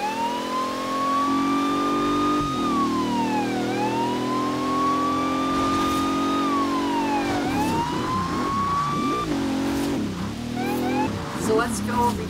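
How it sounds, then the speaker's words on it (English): A car's police-style siren horn in Forza Horizon 3 wails and rises and falls repeatedly over an engine drone, loud and close, with short bursts of other noises near the end. "I put a police siren horn on this. So I sound like a police car"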